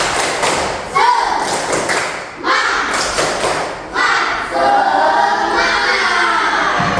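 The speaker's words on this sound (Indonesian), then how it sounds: "Tepuk semangat." Schoolchildren in a primary school classroom clap out a rhythmic spirit clap, sharp patterned bursts of claps and thumps broken by short pauses, with young voices chanting along.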